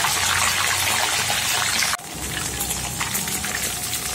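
Pre-boiled tuna pieces frying briefly in hot oil in a pan, a loud dense crackle and sizzle that drops abruptly midway and then continues as a softer, steadier spatter.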